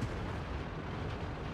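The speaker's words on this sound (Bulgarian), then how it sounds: "Карам 3 бързи изстрела и бягам." Tank cannon fire in World of Tanks, the VK being engaged, sounding as a dense, continuous roar of heavy booms that blur together at loud, steady level without clear gaps between shots.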